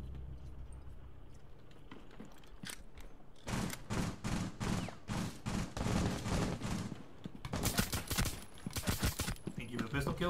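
Pistol shots in a video game, a quick run of sharp, evenly spaced cracks followed by a second burst, loud and close over a quieter game background.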